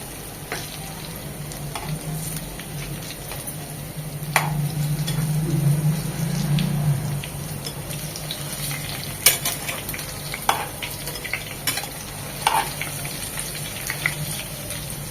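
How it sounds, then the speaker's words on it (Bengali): Balls of bread, cheese and egg fry in oil, a steady close sizzle broken by repeated clicks and scrapes as the pieces are turned, with a low hum underneath. "এগুলোকে উল্টিয়ে পাল্টে এরকম লাল লাল করে ভেজে নেব"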